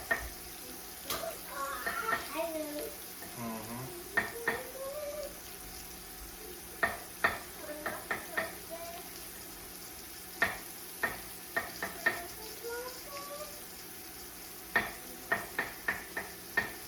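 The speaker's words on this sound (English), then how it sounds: "we're basically like cooking it in an aromatic oil" Mushrooms and other ingredients sizzle in hot aromatic oil while a utensil stirs and scrapes the pan, with sharp clacks and crackles recurring irregularly over a soft frying hiss.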